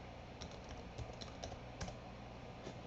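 Steady typing on a computer keyboard while logging into a Firebird database, a continuous patter of light key clicks with a few louder taps, close and clear above a faint background hiss.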